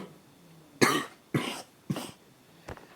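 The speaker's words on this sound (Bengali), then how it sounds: "আর গাইস আমার একটু কাশি হয়েছে, একটু বললে ভুল হবে গাইস, খুবই ভয়ঙ্কর কাশি" A person with a bad cough coughs three times in quick, harsh bursts close by, then gives a fainter fourth cough after a short pause.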